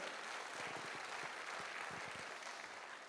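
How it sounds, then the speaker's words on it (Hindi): Audience applause at a meeting, a dense, steady wash of many hands clapping at once, moderately distant and fairly quiet, continuing evenly throughout with no talk over it. "एक बार ज़बरदस्त तालियां तो बनती हैं सर।"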